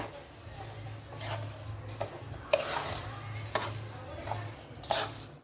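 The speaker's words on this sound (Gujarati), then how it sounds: "હવે એને મિક્સ કરી લેશું આવી રીતે આ બધો મસાલો મિક્સ એકદમ કરી લેવાનો છે" A spoon stirs spice masala into lemon juice for a dates pickle, giving soft scraping swirls with a few sharper clinks against the bowl, quiet and close over a low steady hum.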